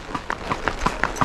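A ridden horse's hooves clip-clop in a steady walking rhythm of about six evenly spaced, crisp strikes, fairly loud and close, with no talk over them.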